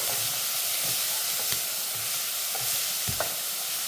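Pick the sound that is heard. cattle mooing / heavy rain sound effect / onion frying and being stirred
onion frying and being stirred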